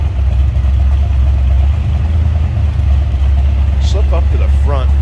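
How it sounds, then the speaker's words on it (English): A 1979 Pontiac Firebird Trans Am's 403 V8 engine idles with a deep, steady low rumble close by; a voice briefly cuts in near the end. "Nice little rumble coming out of that 403."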